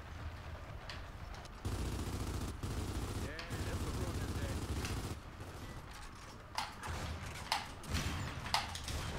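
Gunfire in Gears of War 4 multiplayer, bursts of rapid shots and sharp cracks over a rough mechanical rumble, moderately close, with brief pauses between volleys.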